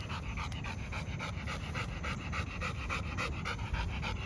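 A Presa Canario dog pants close by in quick, steady rhythmic breaths that continue evenly throughout, with no talking.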